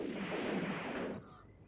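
Gunfire in a ninja action film: a dense, loud burst of shots that runs for just over a second, then drops to a quieter tail.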